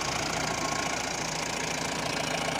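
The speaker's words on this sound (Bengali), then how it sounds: "ইঞ্জিনের সাউন্ডটা দেখেও বুঝতে পারতেছেন।" Mahindra Bolero pickup engine idling steadily, a continuous close-up rumble with a faint knocking texture, heard alone with no talk.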